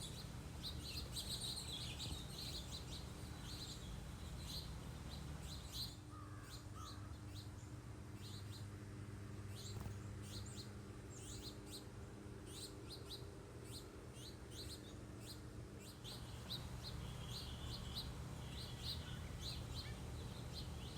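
Birds chirp and tweet in quick repeated calls around garden feeders in a Florida yard, moderately distant, over a steady low hum of background noise.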